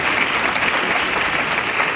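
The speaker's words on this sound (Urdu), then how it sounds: "زور سے تالی بجائیں گے مسیح کے جلال میں." A church congregation applauding loudly, continuous dense clapping from many hands at a steady level throughout.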